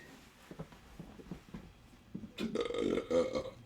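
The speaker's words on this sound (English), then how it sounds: "There's the burp. Just burping it up." A person burps after a few soft clicks and rustles, one drawn-out, wet, gurgling belch rising loud near the end, with no talk over it.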